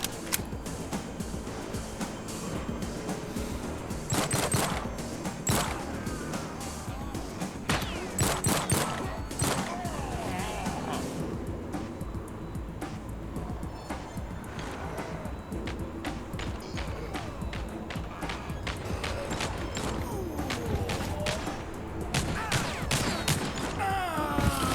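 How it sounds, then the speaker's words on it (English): Gunfire from an enemy shooting through a wall in TimeSplitters Rewind, a first-person shooter game: dense, repeated gunshots and bursts crackle throughout over a busy game soundtrack, with clusters of sharp shots standing out near and loud. "Dude is legit shooting you through a wall, it looked like."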